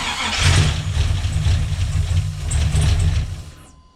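A supercharged LSA 6.0-litre V8 cranks and catches, giving a steady low rumble for about three seconds before it cuts off, close and loud with no talking over it.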